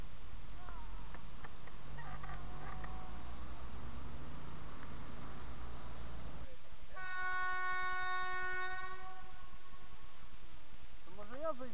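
A train passes a level crossing with broken barriers, first rumbling and clattering nearby, then sounding a long, loud horn blast that holds steady to the end, with voices heard in the background.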